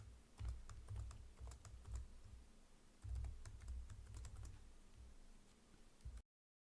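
Rapid typing on a computer keyboard while entering coordinates into QGIS, quiet clicking keystrokes in irregular runs with low thumps, close and alone, ending abruptly in silence.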